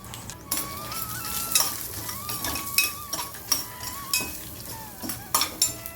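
Urad dal and asafoetida dry-roasting in a pan, with a spoon scraping and clinking against the metal in repeated strokes over a faint sizzle, all close by, while a melodic tone wavers in the background.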